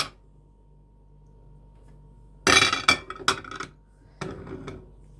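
Large ceramic plates knock and clink together a few times as they are handled, sharp and close against a quiet room, with a short pause between bursts.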